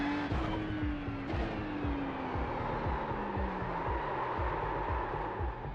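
A Porsche 911 race car in iRacing at Misano roars steadily at high revs, its engine note falling under braking while tires squeal and skid through the corner, loud and continuous with no talk.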